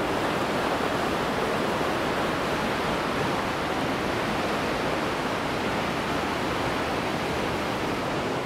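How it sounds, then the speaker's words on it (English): Loud, dense rushing and bubbling of water churning in a whirlpool aboard the Odyssey of the Seas cruise ship, a constant broadband roar with no voices over it. "How's that for a raging whirlpool?"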